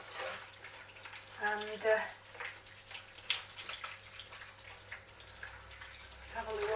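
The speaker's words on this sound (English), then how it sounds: "I'm going to rinse this basket out now." Water runs and splashes while a plant basket from a Sedirea japonica repotting is rinsed out, an uneven gushing and dripping that is fairly close, with a brief voice speaking over it.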